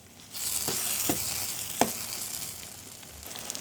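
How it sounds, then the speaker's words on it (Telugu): Masala with chilli powder frying in oil for stuffed brinjal curry, a close, bright sizzle that swells after a brief quiet start, with a few sharp spatula scrapes and pops, then gradually softens toward the end. "చక్కగా ఆయిల్ ఫ్రై అవ్వాలి"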